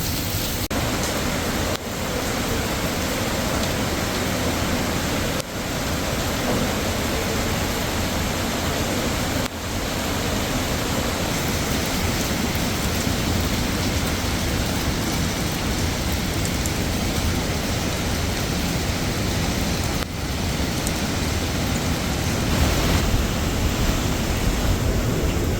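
Floodwater from the Dim river near Alanya, released from a dam after heavy rain, rushes past flooded riverside restaurants at Dimçay. It makes a constant loud roaring hiss of churning water with no voices.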